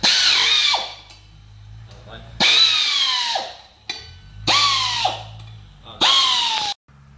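A power tool removes motorcycle brake disc bolts from a rear wheel in four loud, close whirring bursts. Each burst winds down in pitch, with short quiet pauses between them.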